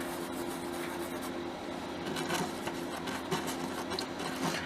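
Steady close scraping and rubbing as hardened resin is worked out of a craft mold, a low, continuous rasping with small repeated strokes.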